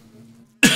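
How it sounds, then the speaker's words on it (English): A single sharp cough bursts out loudly after a quiet moment with a low hum. "I won't die with my cough."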